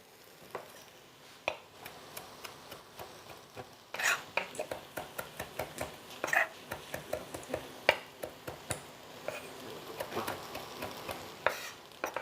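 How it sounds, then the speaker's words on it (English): Onions cooking in a pot for tomato sauce are stirred with a utensil, giving a string of sharp scrapes and clinks at an irregular pace over a soft background sizzle, close by and fairly quiet. "Give this another stir."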